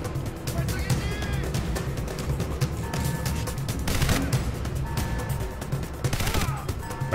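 Enemy gunfire in the shooter Crysis: Warhead, with scattered bursts of shots over a busy, noisy battle soundscape, mixed with other game effects.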